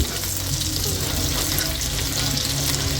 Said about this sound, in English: Waiting for the oil to heat, and then spring onions go in first.